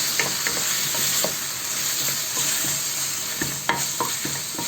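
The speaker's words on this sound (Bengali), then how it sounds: "এটাকে একটু ভাজাভাজি করে নেব।" Beef frying in a pan while it is stirred, giving a constant close sizzle broken by repeated scraping strokes and a few sharper clinks of the utensil.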